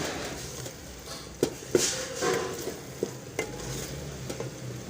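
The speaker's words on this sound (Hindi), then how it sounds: "ये देखें अभी इसकी मज़ीद मैं बुनाई करूँगी 2 से 4 मिनट के लिए।" Ridge gourd (tori) sabzi fries in oil with a steady soft sizzle, broken by several sharp scrapes and clinks of a spoon stirring against the pan.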